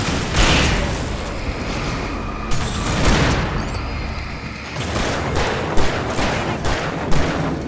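Bursts of gunfire in the video game Alan Wake Remastered, loud repeated shots and booming blasts in several clusters, with brief quieter gaps between volleys.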